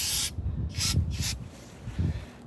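Carburetor cleaner sprays onto the barrel of a Glock 22 Gen 3 .40 caliber pistol in several short, loud, close bursts of hissing aerosol with brief pauses between them.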